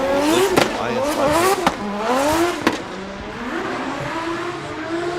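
A drift car on track at Okayama International Circuit revs hard during a qualifying run, its engine rising and falling loudly with sharp bursts, while a commentator talks over the noise.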